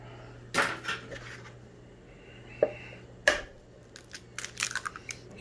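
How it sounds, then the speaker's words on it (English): Eggs cracked into a bowl in a kitchen: a few sharp shell cracks and taps spaced apart, then a cluster of quick clicks and clinks near the end, close and fairly quiet over a faint hum. "Now we are going to take 2 eggs and crack them into this bowl together."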